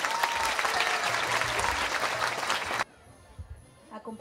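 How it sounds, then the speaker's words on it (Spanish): A crowd at the inauguration of police athletic leagues in Suchitoto applauds loudly and densely, then the clapping cuts off abruptly, leaving quiet room sound with faint voices. "Un aplauso para ustedes."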